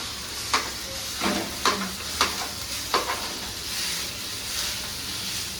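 Biryani rice being stirred together with sauce in a pan at home, with a steady background sizzle and several distinct scraping stirs at an irregular rhythm, close and moderately loud, no voices.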